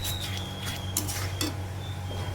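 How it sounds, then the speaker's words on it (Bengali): A spoon stirs spices and chopped tomato in a cooking pan, giving soft scraping and a few light metallic clinks against the pan over a steady low background hum, close and alone. "তো টমেটোটা যতক্ষণ না একটু গলে গলে যাচ্ছে ততক্ষণ আমি মশলাটা কষাতেই থাকবো।"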